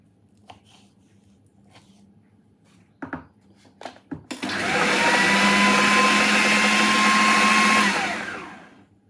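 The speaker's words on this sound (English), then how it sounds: "175 grams of dried apricots chopped, and 1 tin of apricots in juice blended." A blender purees tinned apricots in juice, starting after a few knocks and clicks, then a loud, steady whirring roar for about four seconds before it winds down, close by with no talking.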